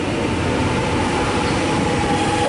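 Continuous close rumble of a Melbourne suburban train departing, the wheels and motor droning evenly with a faint tonal whine running through.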